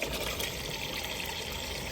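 Water drains steadily out of a freshly unclogged gutter downspout, a close, continuous rushing trickle and pour with no voices.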